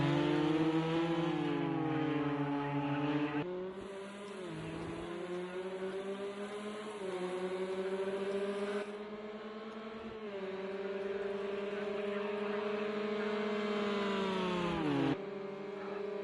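GTE race cars fight side by side through an overtake at Imola, several engines howling loud and close with steady high revs, shifting pitch as gears change and one car moves past.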